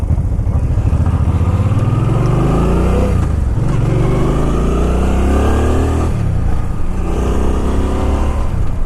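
A Suzuki Boulevard motorcycle engine runs loud and close after starting, its deep exhaust rumbling as the throttle rises and falls in several revving sweeps.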